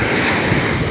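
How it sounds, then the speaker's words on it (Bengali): Ocean waves washing up a beach around the feet, a loud continuous roar of surf with heavy wind buffeting close to the microphone. "তোমরা, একদম ঢেউটা আসছে।"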